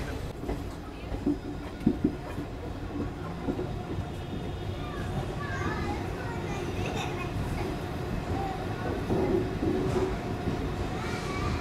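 Barmer Mathura Superfast Express rolling toward Mathura Junction, a steady low rumble of the moving train heard from inside, with faint rattles and occasional bumps throughout.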